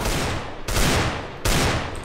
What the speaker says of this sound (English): you heard the gunshots?